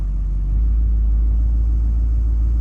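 A 6.6 Duramax diesel engine sits at high idle during a cold start, giving off a steady, deep rumble with a constant low drone that holds unchanged throughout, no voices over it.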